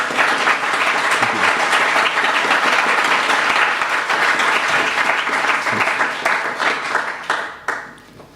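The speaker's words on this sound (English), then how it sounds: "Can I give you a clap first?" An audience applauds after a talk at a conference in London, loud dense clapping close by that holds steady and then thins out and fades near the end.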